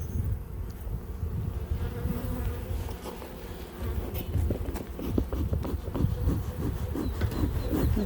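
Honeybees hum inside an opened hive of capped brood, a dense close buzzing with individual bees droning past, continuous and fairly loud without talk.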